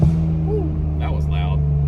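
A Toyota car's engine revs up loudly under hard acceleration and holds a steady, close roar for a couple of seconds.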